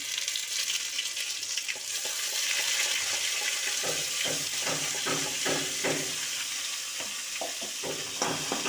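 Spice paste added to meat in a hot pan, a constant hissing sizzle that turns into scraping, clattering stirs partway through, close and with no talk.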